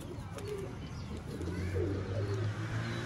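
A red-eyed golden pigeon in a fancier's loft gives soft, low, repeated coos that are faint and close against a quiet background with no talk.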